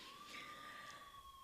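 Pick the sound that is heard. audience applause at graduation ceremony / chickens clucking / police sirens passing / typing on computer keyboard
police sirens passing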